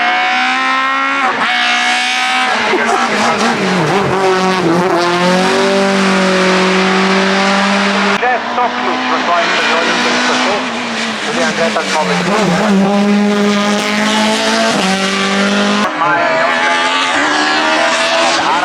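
Loud engines of old-school race cars roar and rev through repeated gear changes at the Gorjanci hill climb race, passing close by in a continuous, rising and falling drone.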